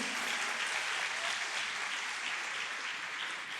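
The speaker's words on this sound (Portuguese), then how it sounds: "E aí, aplaude Jesus." A church congregation applauds steadily during a worship service, a dense, even wash of many hands clapping that holds at a constant level throughout without a pause.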